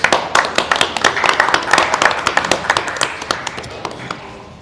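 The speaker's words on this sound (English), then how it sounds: "Let's give our panel a round of applause." A small group claps briskly, individual claps distinct and rhythmic, tapering off toward the end.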